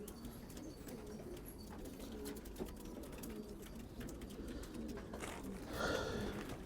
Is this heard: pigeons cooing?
yes